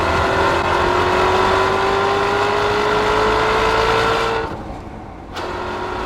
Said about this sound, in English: It's the power and the sound of the Maserati.